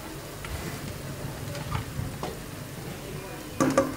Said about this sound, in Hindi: प्याज हमारे जो हल्के फ्राई होने शुरू हो गए